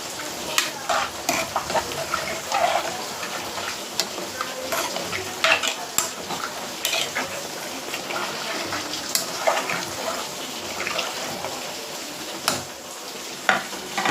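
A dish in a pot is stirred after water is added: continuous close scraping and sloshing with a soft sizzling hiss and frequent clinks of the spoon against the pot, with no talk.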